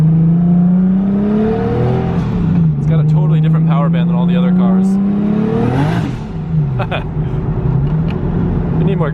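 A Nissan GT-R engine accelerating while being driven in Japan, a loud in-car drone rising in pitch, dropping between gear changes and climbing again, with a person talking over it.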